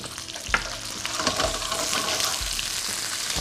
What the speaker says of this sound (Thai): ลดไฟหน่อย น้ำมันเราร้อนแล้ว เดี๋ยวพริกแกงเราไหม้ ผัดให้หอมนะครับ กับน้ำมันหมูของเราที่เราเจียวออกมาเมื่อกี้